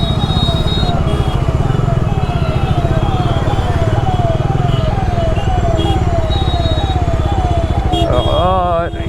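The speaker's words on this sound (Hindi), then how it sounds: "इसको फर्स्ट गियर में डाल के मस्त ट्रैक्टेबल इंजन है" A Bajaj Dominar 400 motorcycle's 400cc engine runs in first gear on a muddy, trafficked road, giving a steady, loud, evenly pulsing drone with a repeating rise-and-fall pattern, then a brief burst of different noise near the end.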